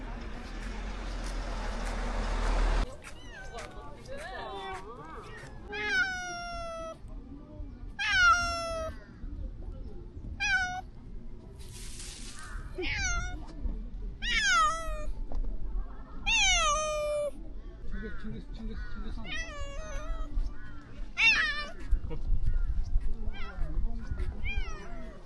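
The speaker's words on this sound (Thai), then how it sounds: "โอ้ยมีแมว" Cat at Seoul Grand Park meows repeatedly in short, rising cries spread across the scene, fairly close and clear over faint outdoor background noise.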